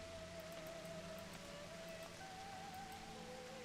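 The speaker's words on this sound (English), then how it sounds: "Raindrops." Rain falling in the video game Final Fantasy XIV, a faint, steady patter of drops over a quiet background hum and soft tonal game music, with no voices.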